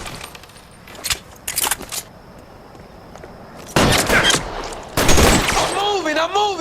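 Gunfire in the video game L.A. Noire: bursts of sharp shots early, then heavier loud volleys close by, mixed with shouted voices and a wavering siren-like tone near the end.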